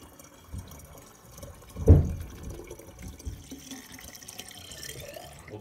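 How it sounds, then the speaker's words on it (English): Distilled water pours and splashes into a CW-5000 water chiller for a laser cutter, with a brief louder gush near the start followed by softer trickling and sloshing. "Now we'll fill it up with distilled water."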